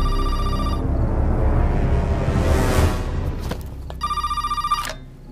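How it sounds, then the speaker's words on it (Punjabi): A telephone rings with a rapid trilling electronic bell, loud and close, in two bursts separated by a sweeping whoosh and rumble of background sound. "ਦੇਖ ਕੇ ਕਿਹਦਾ ਫੋਨ ਹੈ।"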